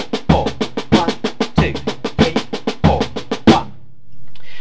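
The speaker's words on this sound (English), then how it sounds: "We're playing a Latin kind of groove on the drum kit," A drum kit plays a Latin samba-style groove with kick and floor tom. Sharp, evenly spaced hits are grouped in repeating phrases for about four seconds, close and loud, then stop. No voices are heard.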